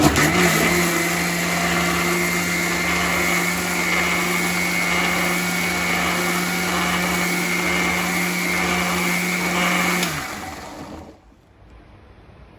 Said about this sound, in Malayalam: 1/2 സ്പൂൺ നല്ല ജീരകവും കൂടെ ഇട്ട് നമുക്ക് ചട്ടണി അടിച്ചെടുക്കാം